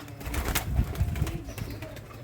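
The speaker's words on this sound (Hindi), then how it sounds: "एक ये कबूतर है जोड़ों वाला, बड़ा अच्छा वुड क्लास जोड़ों वाला कबूतर है" Pigeons held in a net, a fine wood-class pair among them, give low soft cooing with brief flutters of wings, close by and steady throughout.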